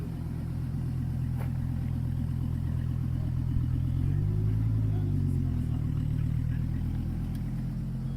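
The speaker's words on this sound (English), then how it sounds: "Kind of soft pulling out there because it was brand new. They didn't want to rev it too hard." A brand-new sports car pulls away gently, its engine holding a steady low drone that swells briefly mid-clip before settling, never revved hard, with no speech over it.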